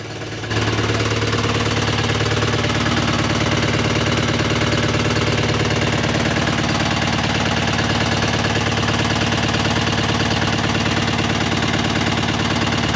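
A sailboat's inboard engine runs loud and close at a steady idle, a continuous rough knocking drone that holds level throughout without being switched off, with no voices over it.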